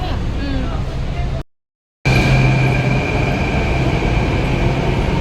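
Loud rumbling of a metro train in motion with a steady hum and whine, broken by a brief cut, while a voice talks over it.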